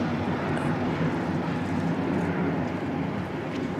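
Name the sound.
Air New Zealand aircraft on a maintenance test flight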